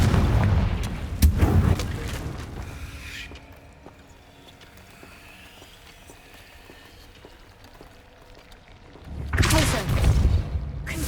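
The Confringo fire spell explodes in the video game Hogwarts Legacy: loud booming blasts at the start and again near the end, with a quiet stretch between and a voice speaking.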